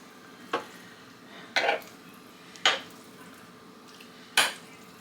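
Lard being stirred in an 18-quart roaster, four separate scraping clinks of a utensil against the pan at irregular intervals over a low, steady background hiss.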